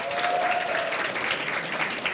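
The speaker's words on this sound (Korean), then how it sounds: "저희 영상 제작하신 선생님들께 다시 한번 박수 부탁드리겠습니다." Steady applause from a seated audience at a parenting institute launch ceremony, a dense, even wash of clapping hands throughout, with a faint tone briefly at the start.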